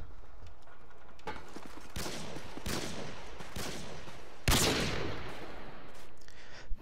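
Shots in the shooter Call of Duty Online during a kill cam replay, several sharp loud cracks spaced a second or so apart over a low game ambience, the strongest blast near the end.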